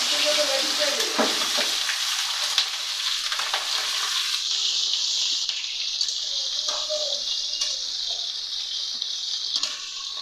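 Boiled cauliflower and potatoes are tipped into hot oil with cumin, setting off a loud burst of sizzling and splashing. The hiss then settles into a steady frying sound with some stirring, close by.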